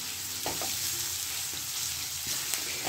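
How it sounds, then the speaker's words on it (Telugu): Chopped onions frying in a pan for a lightly gravied mutton fry, with a quiet, steady sizzle and a few soft stirring clunks, no voices. "దీంట్లో ఇప్పుడు మనం కట్ చేసి పెట్టుకున్న ఆనియన్స్ అనేది వేసి ఫ్రై చేసుకుందాం"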